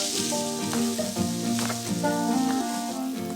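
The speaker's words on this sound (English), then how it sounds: "Helps to have two weapons to stir it, and you just turn it like this" Carrots are turned in a hot pan with two utensils, giving a steady close sizzle and soft scraping under background music.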